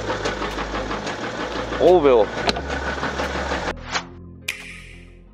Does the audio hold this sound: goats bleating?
no